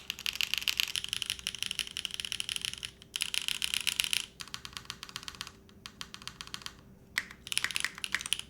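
Rapid typing on a Sat75 X mechanical keyboard, with close, crisp key clacks in quick bursts separated by brief pauses, heard alone without talk.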